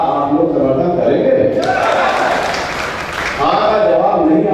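Audience applause at a real estate company gathering, a steady wash of clapping that swells in the middle and runs throughout, with a voice audible underneath.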